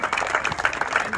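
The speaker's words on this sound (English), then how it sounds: "So we owe them a big round of applause" Crowd applause at the Bellingham pumptrack grand opening, outdoors, a brief dense patter of clapping with a busy murmur of voices mixed in.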